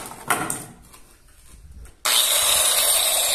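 A marble saw fitted with a porcelain tile cutting disc switches on abruptly after some quiet handling noise, then runs at a loud, steady, high-pitched whine close by.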